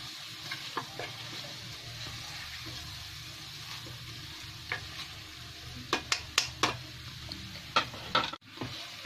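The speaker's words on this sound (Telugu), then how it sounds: "ఒక 5 మినిట్స్ వేయించుకోండి." Mutton frying with masala in a pan, a soft steady sizzle under clinking and scraping stirring strokes that grow sharper and more frequent toward the end.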